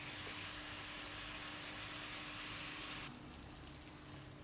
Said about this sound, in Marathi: टमाटर शिजेपर्यंत हे करू, परतून घेऊ